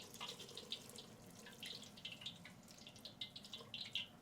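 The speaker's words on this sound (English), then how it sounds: "Just about ready to add our vegetable broth to it." Vegetable broth pours into a cooking pot as a faint, steady liquid trickle with small splashes and drips, quiet and close with no talking.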